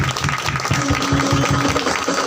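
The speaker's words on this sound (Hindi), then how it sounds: "एक बार इनके लिए जोरदार तालियां।" Audience at a business training and celebration event in Pihani gives a short burst of hearty applause, a dense crowd clapping with some rhythmic pulsing underneath.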